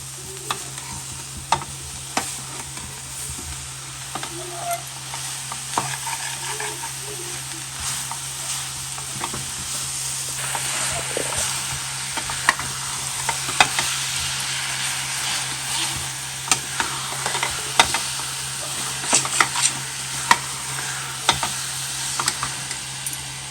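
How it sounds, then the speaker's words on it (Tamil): Kozhukattai filling is stirred continuously in a pan, making a soft, steady sizzle with irregular scraping clicks from the spoon, close and alone with no talk. "இது நல்லா எல்லாம் ஒன்று சேர்ந்து வர வரைக்கும் கைவிடாமல் கிளறிக்கிட்டே இருக்கணும்."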